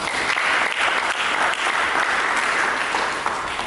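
A church congregation claps during a sermon, a full, continuous roar of applause sustained at an even level from start to finish.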